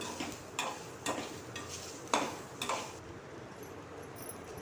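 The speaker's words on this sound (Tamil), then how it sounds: "இப்போ இது எல்லாத்தையுமே நம்ம நல்லா கிளறி விட்டுக்கலாம்." Potato masala ingredients with cumin stirred in a pan: sharp scraping and tapping utensil strokes about every half second over a faint sizzle, close by with no voices.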